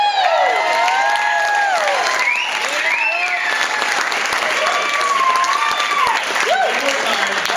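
Loud continuous applause from a wedding reception crowd, whistles and high whoops rising over the clapping throughout, with scattered cheering voices in a lively, close room.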